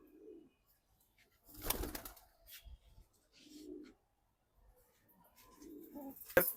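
Pigeons cooing in a loft in Dhaka, a female bird collected from a Narayanganj pigeon market among them, with several soft low coo phrases spread across the stretch, a few louder broadband bumps and clatters between calls.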